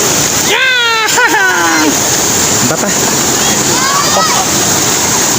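Rushing river water splashes continuously close by, with a child calling out and chirpy voices over the steady roar.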